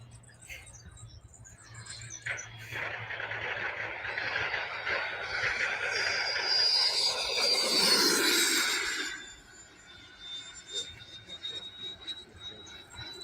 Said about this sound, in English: That's a big jet, man.